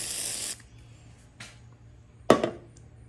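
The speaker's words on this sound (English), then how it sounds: "You're going to take your WD-40, give her a quick spray down." WD-40 spray from an aerosol can aimed at an old 2000 Craftsman 22-inch lawn mower: one steady hiss of about half a second, followed by a couple of short, softer bursts, close by and with no talk.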